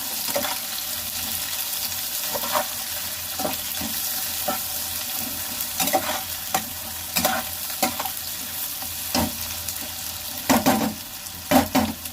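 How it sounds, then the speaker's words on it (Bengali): Long-sliced onions frying in oil in a pot for biryani, a steady loud sizzle broken by repeated spoon scrapes and clinks as they are stirred, with no voices. "পেঁয়াজটা লাল লাল করে ভেজে নেব"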